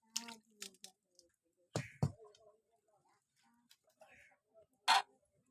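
Hog plum (amra) and coconut milk khatta chutney is poured out close by, with scattered soft drips, squishy splats and small clinks separated by quiet gaps.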